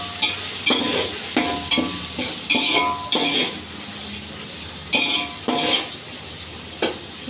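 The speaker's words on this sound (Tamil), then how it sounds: "நல்லா வதக்கிடலாம்." Ingredients for chicken biryani sauté in a pan under a soft constant sizzle, broken by repeated loud scraping and clinking strokes of a metal spoon against the pan at irregular intervals, no speech.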